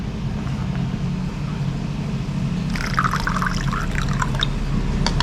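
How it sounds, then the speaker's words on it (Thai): Water poured into a plastic bag of freshly cleaned sea krill being prepared for freezing, a steady splashing gush starting partway through over a constant low background hum, with no voices. "แล้วก็จะใส่น้ำรอไปสักนิดหนึ่งนะครับ"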